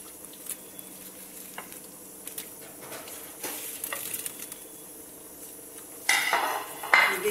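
Cabbage kofta balls going into a hot pan of oil and frying, with a steady soft sizzle, light scraping and stirring, and louder bursts of sizzle near the end as more pieces drop in.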